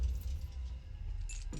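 Keys jangle close by in a short metallic rattle, a couple of quick clinks near the end over a low background hum, in an action film scene.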